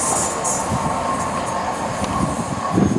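A diesel passenger train passes on a non-electrified line, a steady loud rumble and rolling wheel noise filling the whole stretch with a faint squeal near the end.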